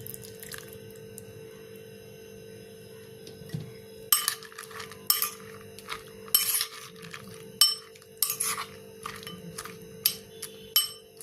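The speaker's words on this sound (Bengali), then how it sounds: "এবার অরেঞ্জ জুসটা দিয়ে দিচ্ছি" Quiet kitchen clinks and tapping of a utensil against a bowl while orange juice is added and stirred for tutti frutti cake, with intermittent bursts of soft clatter over a steady low hum.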